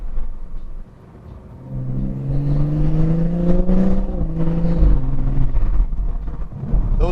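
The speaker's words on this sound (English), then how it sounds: "Those upshifts are unbelievably fast." A BMW M240i xDrive with a B58 engine and XHP Stage 3 tune accelerates, its engine note rising and dropping through quick upshifts, a loud close drone heard from inside the car, with no talking.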